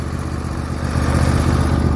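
A John Deere mower's 725cc twin engine runs close by, a steady loud throbbing chug that swells slightly in volume partway through, with no voices.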